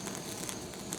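Mackerel skin seared under a handheld torch gives a steady close hiss flecked with small crackles and pops, filling the whole short moment.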